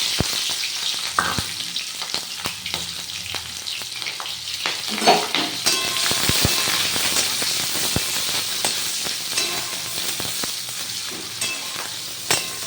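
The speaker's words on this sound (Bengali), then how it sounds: "তেল গরম হয়ে গেছে তো এর মধ্যে পেঁয়াজ রসুন আর কাঁচা লঙ্কা দিয়ে দিলাম" Onion, garlic and green chilli crackle and sizzle in hot mustard oil, with sharp pops and spatters and a few clinks of stirring, close and continuous.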